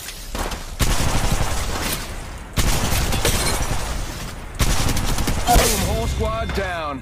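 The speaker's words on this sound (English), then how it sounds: "Opening fire." Gunfire in the Apex Legends Mobile video game: three loud bursts of rapid automatic shots, each starting abruptly and running on for about two seconds, with a sharper crack and fading tail near the end.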